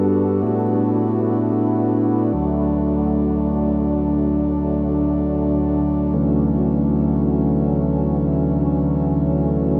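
Layered synth pad atmosphere, dull and filtered, forms a dense sustained wash of held chords that shift at a few points. It plays loud and steady throughout with no voices.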